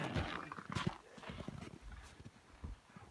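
Harnessed horses' hooves clip-clop on the ground during a moose hunt, a loose run of uneven, fairly close knocks and thuds with some rustling, lasting a few seconds, with no talk.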